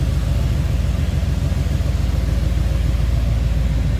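An LS engine in a 1986 Chevrolet C10 pickup running at a steady idle, a loud, close, even low rumble with a smooth regular pulse and no other sounds.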